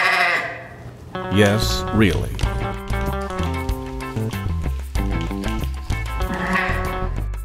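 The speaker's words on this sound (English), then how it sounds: "They even own their own sheep." A sheep bleats in wavering cries near the start and again near the end, set against steady background music while a voice speaks briefly.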